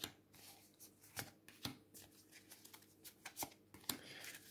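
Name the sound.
shuffling tarot cards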